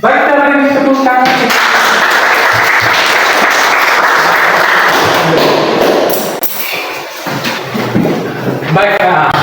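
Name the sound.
applause in a classroom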